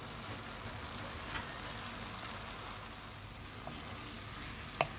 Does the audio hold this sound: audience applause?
no